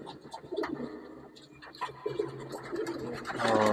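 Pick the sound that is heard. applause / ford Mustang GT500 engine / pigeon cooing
pigeon cooing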